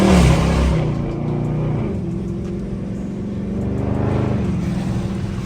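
A Dodge Challenger Scat Pack widebody engine revs hard and holds high as the wheels spin, dropping briefly before surging again, with a steady roaring drone close by.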